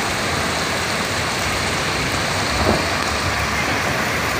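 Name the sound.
floodwater rising from a manhole in heavy rain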